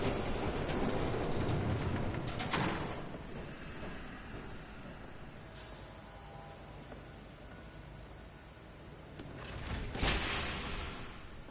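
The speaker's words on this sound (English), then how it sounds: "There's a train coming." A train rumbles past in Batman: The Telltale Series, a loud hissing roar that swells, fades to a steady rolling noise, then surges again near the end with no talk.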